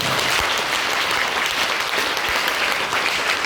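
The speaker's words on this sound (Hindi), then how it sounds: "आप लोग जोरदार तालियां दें।" Loud, dense applause rises from the audience at an NCC cadet award ceremony, a steady roar of many hands clapping at once that stays full and even from start to finish.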